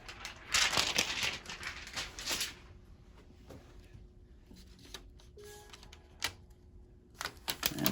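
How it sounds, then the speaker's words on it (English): Screen protector peeled off a Dell Inspiron 15 3520 laptop screen during repair: a close crackling, crinkling tear at first, then quieter scattered clicks and small handling noises. "Peel off the screen protector there."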